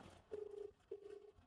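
Two faint ringback tones sound in a row, each a steady electronic hum about half a second long, separated by a short gap, quiet and distant.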